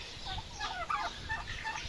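Brooding turkey hens gobble faintly in the distance, a few warbling calls rising over a steady background hiss.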